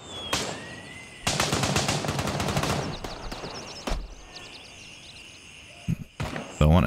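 Automatic gunfire in Gray Zone Warfare as enemies are shot: a dense rapid burst of close rifle shots, then scattered single shots, clicks and handling thumps, with louder bangs near the end.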